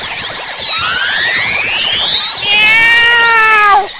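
A cartoon cat meows and caterwauls in an animated film, loud, close and continuous, with long rising and falling wails over a busy soundtrack.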